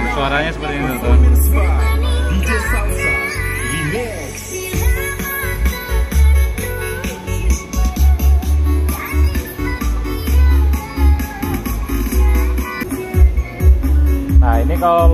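A Polytron PLD 43BUG5959 Google TV with Dolby Atmos switched on plays loud, dense program audio, music-like and full-bodied with a steady low end, running continuously throughout.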